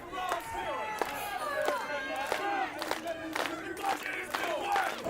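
A wrestling crowd at a Juggalo Championship Wrestling show roars and shouts in support of Too Tough Tony, with scattered yells and sharp bursts over a constant murmur, fairly distant.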